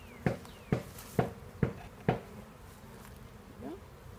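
Honeybees around a beehive on a farm in Manoa, a steady insect buzz running underneath five evenly spaced sharp thumps, with a faint hum trailing off afterward.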